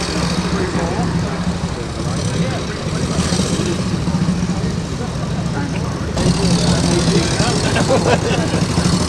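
A Royal Enfield motorcycle engine runs at an outdoor car meet, a steady low idling rumble beneath continuous crowd chatter and nearby talking, with the mix swelling a little louder toward the end.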